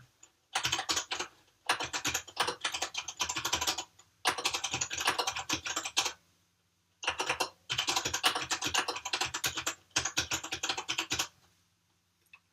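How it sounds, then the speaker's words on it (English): Rapid typing on a computer keyboard, close and clear, in four or five dense bursts of clicking keys separated by short silent pauses, with no voices. "start typing into this."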